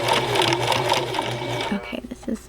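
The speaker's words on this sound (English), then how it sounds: "we're going to stitch over that line again" A sewing machine stitches along a skirt placket line in a rapid, steady whir that stops near the end and gives way to a few short clicks and bumps.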